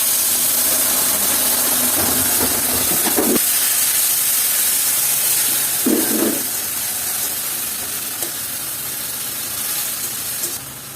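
Tomato and onion paste hits hot oil spiced with cinnamon, cloves, cardamom and bay leaf for a prawn fritter and potato curry, giving a loud, steady broadband sizzle with a couple of brief louder spurts.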